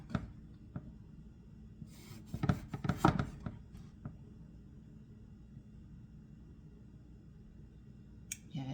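A knife cuts thick slices of eggplant on a board, with a few sharp, close chopping knocks clustered in the middle over a low room rumble and a lone click near the end.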